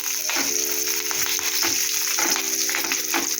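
Curry leaves crackle and sizzle in hot oil during a tempering for a fasting sweet potato dish, a steady loud frying hiss with repeated spattering pops and a faint tonal hum underneath.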